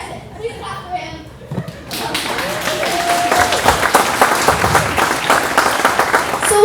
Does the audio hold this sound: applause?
yes